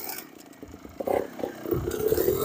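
A trials motorcycle on a backyard obstacle course builds up revs in short rising surges, mixed with some clatter and scraping. The sound is brief and moderately close.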